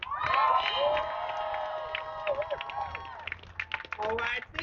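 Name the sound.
crowd applauding and cheering at a rally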